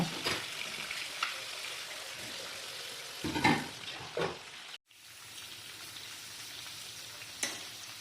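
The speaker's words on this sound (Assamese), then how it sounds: "এতিয়া মই এই গোটেই বস্তুবোৰ পলটাই দিওঁ, আলু, চিকেন, পিঁয়াজ গোটেইবোৰ" Chicken leg pieces frying with potato and onion as they are turned and stirred in the pan, a soft sizzle broken by several scraping, clattering stirs and a brief dropout midway.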